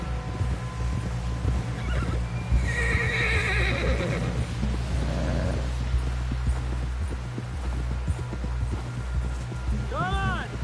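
A horse in the Red Dead Redemption 2 video game whinnies loudly over a constant rumbling game soundscape with steady clip-clopping hooves, and voices speak throughout.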